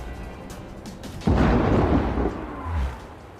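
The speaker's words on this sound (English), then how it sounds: "They're just they're shooting cannons at him." Cannon fire in the video game Assassin's Creed Rogue, one sudden heavy boom that rumbles and decays over about two seconds, with a smaller thud after it and no talk.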